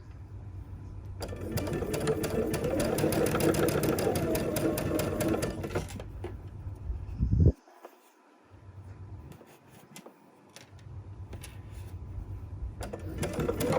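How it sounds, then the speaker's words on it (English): A sewing machine stitches a Tula Pink butterfly quilt, a steady close, rapid needle rattle running for several seconds, stopping abruptly, then starting up again at the end. "I'm going to keep sewing."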